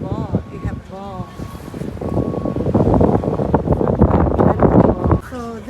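Strong wind buffets the open deck of a cruise ship anchored off Catalina Island, a steady rushing roar under continuous close conversation.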